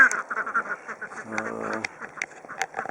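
Several Khaki Campbell ducks quack in short bursts nearby, with a brief run of harsher honking in the middle.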